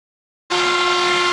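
A CNC router on a MikroBench machine cuts a pocket into wood, its spindle starting abruptly after silence and holding a loud steady high-pitched whine.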